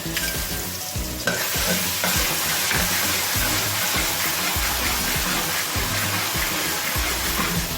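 Two tablespoons of ginger garlic paste hit a hot pan for karela masala, bursting into a loud, continuous sizzle after a quieter start, with regular rhythmic scrapes of stirring throughout.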